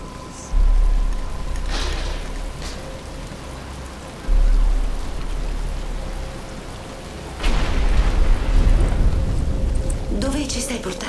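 Rain in a Batman: Arkham Asylum cutscene sweeps in as loud bursts of hissing downpour with deep rumbling surges that build in waves, and a voice speaks over it.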